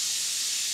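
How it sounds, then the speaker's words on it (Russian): Steam hissing from the pressure valve of an Afghan kazan cooking pot, a loud, steady high-pitched hiss heard alone for a brief moment. "Спустите лишний пар."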